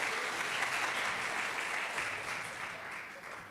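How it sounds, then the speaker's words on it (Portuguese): Church congregation applause fills the room as an even, hissing wash of many hands clapping, fairly soft and somewhat distant, easing slightly toward the end. "Dá um aplauso a Jesus"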